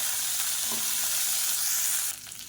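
Whole shallots and dried red chillies fry in a pan for coriander chutney, with a close, even sizzle that suddenly eases to a softer hiss near the end.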